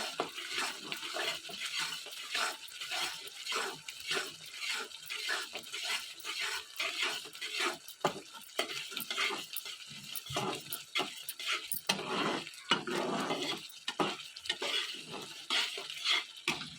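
Chicken roast masala with ground black pepper and spices being stirred in a pan, with rapid repeated scraping and clacking strokes of a spoon against metal and a soft wet sizzle between them.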